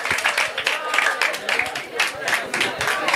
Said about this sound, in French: Donc il mérite des applaudissements.